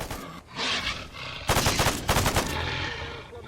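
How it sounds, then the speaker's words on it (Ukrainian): Rapid bursts of automatic gunfire crackle loudly in the video game S.T.A.L.K.E.R. with the SGM 2.2 and Gunslinger mods, one short volley then a longer sustained stretch, with synthetic game ambience in between. "ці розумники по своїх стріляють"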